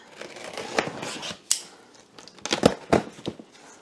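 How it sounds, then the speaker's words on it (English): Sharp cutting and slicing through cardboard and tape with a scalpel, opening a stand mixer box, irregular strokes with crinkling in between, close up and without speech. "Let's do a little opening here with my handy dandy scalpel"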